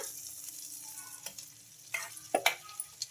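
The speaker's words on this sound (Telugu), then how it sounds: "ఈ పోపులో అయితే చట్నీ అయితే వేసేసుకుంటున్నా" Chutney poured into a hot tempering sizzles faintly in a pan, with a soft steady frying hiss and a few small sharp pops and clicks near the end.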